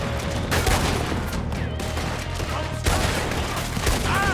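Rapid bursts of machine gun fire and scattered gunshots ring out in a Red Dead Redemption 2 battle against a regiment, loud and continuous with sharp peaks.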